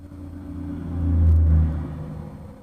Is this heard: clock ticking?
no